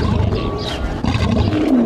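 A lion roars at a desert lion ranch housing dozens of big cats, a loud, rough sustained roar close by that fills the short stretch, with a lower groaning tail at the end.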